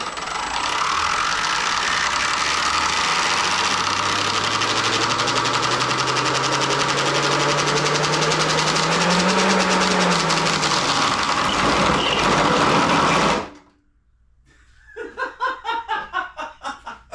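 600 KV outrunner electric motor running hard under load, a loud steady buzzing whine with a rising tone that cuts off abruptly as it fails, followed by a few fainter rattling pulses.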